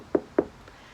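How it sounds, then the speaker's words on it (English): Two sharp knocks on a door about a quarter second apart in a quiet room, followed by a fainter third tap, with no one talking. "And then all of a sudden you get this knock on the door"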